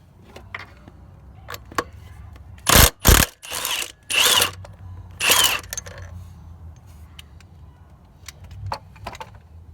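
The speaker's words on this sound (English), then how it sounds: "So now we're going to remove this bolt here." A bolt is worked loose on the air intake of a Chevrolet Trax, giving a few loud bursts of ratcheting close by, separated by light metallic clicks and tool handling.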